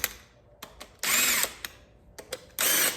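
A power drill runs bolts into an Audi 2.0T engine being prepped for install, with short sharp whirring bursts and two longer loud runs separated by pauses and clicks, close and without talking.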